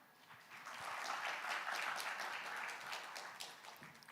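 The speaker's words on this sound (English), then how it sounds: "we'd like to welcome him with a warm round of applause." Applause from a conference audience at the World Bio Summit 2025, a dense wash of clapping that swells, holds steady, then tapers off, fairly quiet and distant.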